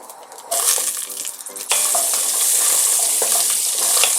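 Onion drops into a pot over browned beef ribs and sizzles loudly, the frying jumping up in bursts as it goes in, then holding as a steady, close hiss with light stirring scrapes.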